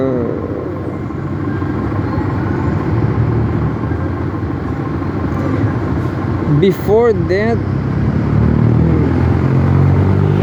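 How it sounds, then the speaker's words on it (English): Bus and street traffic create a loud, steady low rumble that continues beneath a person speaking, with a brief rise in engine noise partway through. "there's a lot of bus noise"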